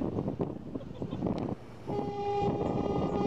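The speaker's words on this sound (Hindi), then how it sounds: "ट्रेन हमारा आराम से अभी तो स्पीड थोड़ा थोड़ा एक्सेलरेट कर रहा है" Jaynagar express passenger train on the rails, a close rumbling run with rhythmic clatter, briefly easing off before a louder steady roll and a sustained high horn-like tone joins in.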